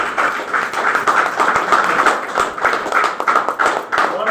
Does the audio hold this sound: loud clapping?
yes